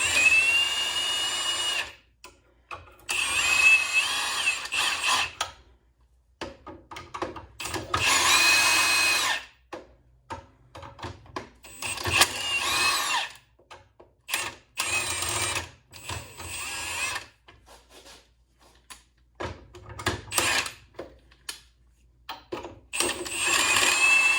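A power tool runs lug nuts down while mounting wheels, heard as repeated loud bursts of whirring rattle a few seconds each, broken by short pauses, with no talk.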